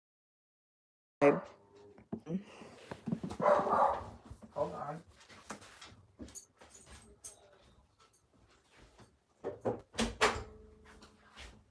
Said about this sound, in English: I had to shut my door because the dog wants to come in here and try to steal my dog's food